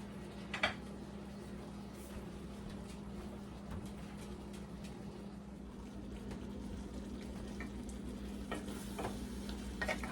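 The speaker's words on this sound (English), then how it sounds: "You can see our steak, our onions, and our peppers. This is only going to have to cook for probably about 6 or 7 minutes all the way," Thin-sliced steak with onions and peppers fries in a pan, giving a steady low sizzle and faint crackle with occasional light taps, continuous and close with no voices.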